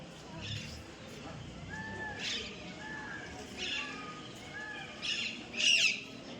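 Peacock calling in a 17th-century Mughal garden at Pinjore, several faint, distant squawking cries spread out over a quiet outdoor background, with someone speaking nearby.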